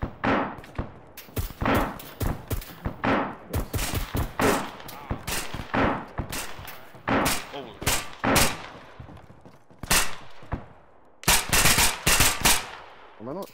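Rapid bursts of automatic gunfire from the military shooter Arma 3, fired in repeated volleys with brief pauses, loud and close, with a few heavier thumps among the shots.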